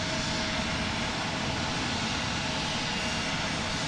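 An Alaska Airlines jet departs Portland International Airport for Anchorage, its engines giving a constant, dense, hissing roar at even loudness with a faint steady tone running through it.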